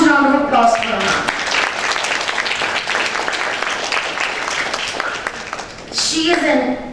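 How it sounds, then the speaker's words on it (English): An audience at a literature festival breaks into sustained, loud applause, a dense wash of clapping that fills the room for several seconds, with a voice speaking briefly before and after it. "Please give a huge round of applause for her."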